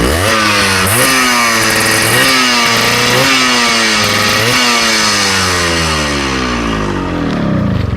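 A Yamaha RX100 two-stroke motorcycle engine runs loud and close, rising through several sharp revs in a rhythmic pattern before the pitch sweeps down and settles, with no voices present.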